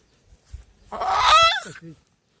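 A single loud, harsh bird squawk rises and breaks off, a strained honking cry from a village rooster of about one and a half kilograms, heard close with no talking.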